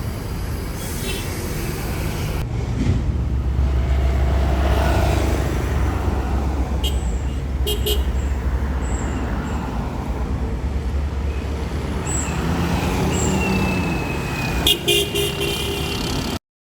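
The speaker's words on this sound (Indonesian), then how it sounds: "Dan ini dia, teman-teman, bis yang akan membawa aku menuju ke arah Jakarta hingga Tangerang." A Rosalia Indah Muria division sleeper bus pulling into a station, its engine rumbling near and loud with several short horn toots toward the end, over station chatter and voices.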